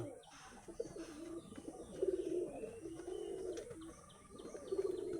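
A caged pigeon coos in several low, rolling phrases, close and moderately loud, with faint chirps in the background.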